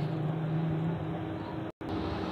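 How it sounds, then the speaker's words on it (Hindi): A worn motorcycle engine in poor condition idles steadily, a continuous rough drone with a brief cutout near the end, heard close up. "तो इसका इंजन का भी साउंड काफ़ी ख़राब हुआ है।"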